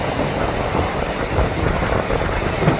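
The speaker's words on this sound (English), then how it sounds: "The helicopter has landed." A helicopter lands on Steel Pier with a steady, loud, broadband roar of rotor and engine noise that holds constant throughout, with no clear talking.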